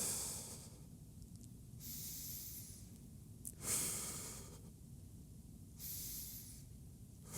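Slow, steady breaths from someone holding a tucked wall handstand, with a long inhale and exhale cycle repeating about four times, soft and close with no talk.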